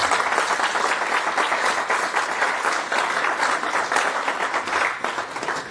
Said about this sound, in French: tonnerre d'applaudissements à travers son pays.